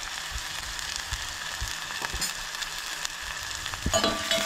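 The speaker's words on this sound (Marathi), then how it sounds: "म्हणजे फोडणी मारून घेवंक जाय आमकां" Spices and asafoetida sizzle and crackle steadily in oil up close for a Goan vegetarian dish, with small pops and a brief sharper burst of frying near the end.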